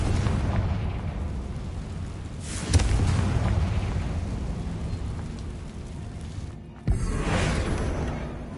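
Two Confringo fire-spell blasts in Hogwarts Legacy, each a sudden booming burst over a steady rumbling, crackling bed of game ambience, the first near the start and the second toward the end.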